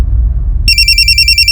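An electronic telephone rings in a police station, starting partway in with a steady, loud trilling pattern over a low background hum.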